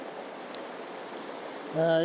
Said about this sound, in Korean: 물소리 좋죠